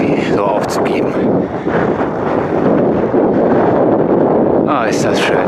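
Icy wind buffets the microphone on the Brocken summit in the Harz, a steady loud roar with gusty rumble throughout, and a few faint higher tones drifting in near the start and end.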